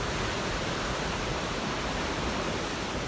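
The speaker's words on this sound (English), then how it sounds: "let's forget the noise of the river for a short while and let's embrace it" A powerful river rushing past nearby, a loud, dense and unbroken roar of churning water with no other sounds.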